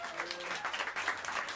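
Jazz club crowd in New York City applauding the drummer during band introductions before a live set, a short burst of dense, close clapping with a few shouts mixed in.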